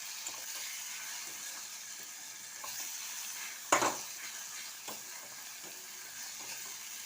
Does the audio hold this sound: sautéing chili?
yes